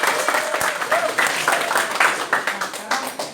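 A classroom of students claps together in applause, fairly close and moderately loud, with uneven individual claps pulsing through a brief burst of a few seconds.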